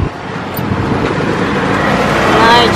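Busy road traffic on a congested Manila-style street in the Philippines, a steady wash of car engines and tyre noise heard from close by, rising slightly toward the end as a vehicle draws nearer.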